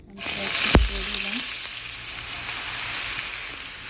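Chopped onions frying in a pan, a loud continuous sizzle that begins abruptly, with a sharp knock of a utensil early on and brief scraping as they are stirred, close up and without speech.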